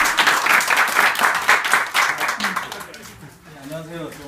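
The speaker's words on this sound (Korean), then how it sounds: "박수 한번 드려주세요." A room full of people at a ski camp claps for a few seconds, then the applause fades out as a voice begins speaking.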